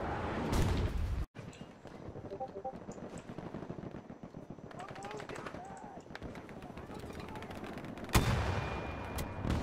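Gunfire rings out in Battlefield 2042 gameplay, with rapid automatic bursts and scattered shots at mid distance amid battle noise, while players talk over it.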